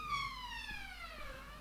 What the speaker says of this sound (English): a police car goes flying past